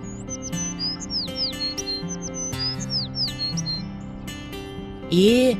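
Cartoon birds in an animated children's film chirp in quick, repeated high tweets and trills over a steady musical backdrop, ending with a louder squawk-like call.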